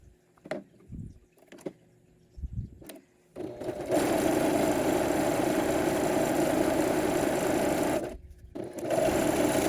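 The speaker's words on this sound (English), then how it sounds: "I used a 3-thread overlock stitch on this to sew all the vertical seams so they don't fray" Serger stitching a 3-thread overlock seam along fabric edges: a few short taps first, then a steady, loud, fast mechanical whir that runs for several seconds, pauses briefly and starts again.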